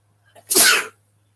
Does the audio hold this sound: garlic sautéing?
no